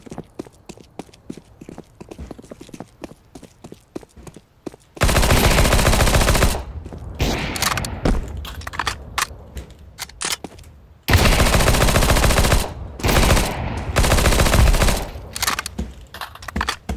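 P90 submachine gun fire in Counter-Strike, loud sustained automatic bursts close up, two long streams broken by shorter volleys, with clicks and footsteps between them.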